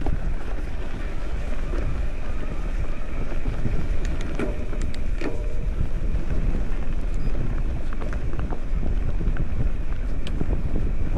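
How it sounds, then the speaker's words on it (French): Steady wind buffeting a microphone outdoors near water, with boats and waves around, a constant loud rumbling roar that fills the whole stretch without letting up. "Bon, encore une fois, il y a du vent."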